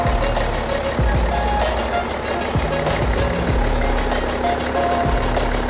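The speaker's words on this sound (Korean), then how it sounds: "엔진 소리 일정하네요." BMW 840d xDrive diesel V engine running steadily under an open hood, a continuous low hum with faint knocking pulses and a sustained drone, close and even throughout.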